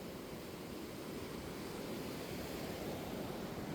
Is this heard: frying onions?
no